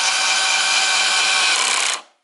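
A power driver runs continuously for about two seconds while screwing a screw into a battery pack being converted from Ni-Cd to Li-ion cells, a steady loud whir that cuts off abruptly.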